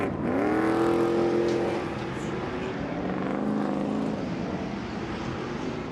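Roughly 650-horsepower SST race trucks brake hard into turn one at Long Beach, slowing from about 150 mph; a loud engine roar sweeps past and drops in pitch, with a second engine note following.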